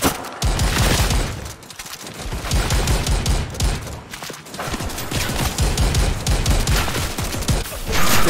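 Rapid, loud gunfire in a co-op VR zombies shooter set in a museum, with dense bursts of automatic fire and shots running almost continuously, broken by a couple of brief pauses.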